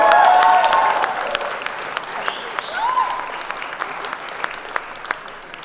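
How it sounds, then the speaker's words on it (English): Wedding guests break into applause, loud at first and then settling into a steady, dwindling patter of claps, with a few voices and a whistle-like call over the crowd. "Give these guys a round of applause."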